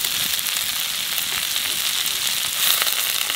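Prawns sizzle steadily in hot oil with cumin, black cumin and onion, a close, even crackling hiss with small pops that holds for the whole stretch with no talk.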